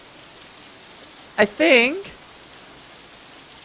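Steady rain from the visual novel Katawa Shoujo, a soft even hiss throughout, with a brief spoken line over it.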